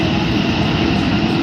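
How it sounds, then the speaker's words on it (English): C-17 cargo aircraft backing up under its own power with thrust reversers deployed at an airshow, producing a steady, loud, close roar of engine noise. "The 𝗃-17 is currently demonstrating the ability to back under its own power"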